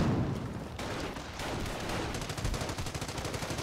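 Rapid machine gun fire from a Company of Heroes battle rattles on throughout, with bursts of dense shots building into a quick, evenly spaced stream of reports near the end.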